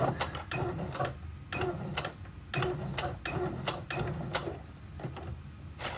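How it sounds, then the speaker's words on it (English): A sewing machine back stitching fabric in a craft session runs in steady mechanical bursts, a rapid whirring clatter that stops and restarts roughly every half second to second, close up with no talking. "we're gonna back stitch it"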